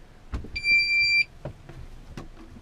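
A boat's depth gauge gives a steady electronic beep for just under a second, with a few soft knocks and clicks around it and no talking.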